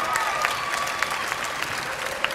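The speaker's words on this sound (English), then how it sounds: "Let's give Mike a big round of applause as he makes his way out" Crowd at a belly flop contest breaks into steady applause, with dense clapping and scattered cheers that hold at a moderate level throughout.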